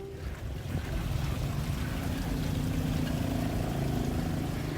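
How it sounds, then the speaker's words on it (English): Moving water rushes and churns on the flooded Chao Phraya River in Bangkok, with a steady low engine drone from boats on the water, a constant broad roar at moderate level. "So this morning I've tried to get as close as I can to the Chao Phraya River"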